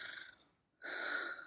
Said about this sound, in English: Who's snoring?